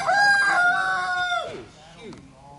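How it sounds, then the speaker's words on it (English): A backyard rooster crows loudly nearby, one long drawn-out call that trails off, followed by a softer short cluck or squawk from the small flock of hens. "Three hens and one rooster, you know."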